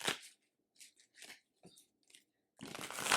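A deck of tarot cards is shuffled close by in small, quick papery bursts with short pauses between them, ending in a longer rushing riffle.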